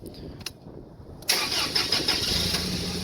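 A forklift engine cranks briefly and then catches, settling into a steady, loud mid-pitched idle that runs close by with slight fluctuations.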